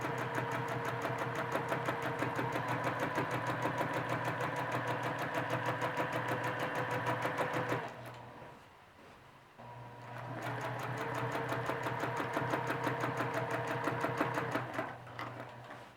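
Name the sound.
sewing machine stitching down a stem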